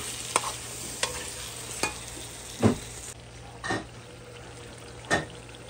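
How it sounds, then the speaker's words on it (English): A spoon stirs Guyanese catfish curry with habanero pepper in a pot, scraping in several distinct bursts about a second apart over a soft background sizzle. "Now she's gonna stir it up."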